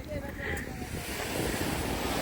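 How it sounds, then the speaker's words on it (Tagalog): Ocean waves break and wash up on the shore at Tamaraw Beach Resort in a continuous surging rush, with wind buffeting the microphone and the sound swelling toward the end. "Habulin niyo yung waves."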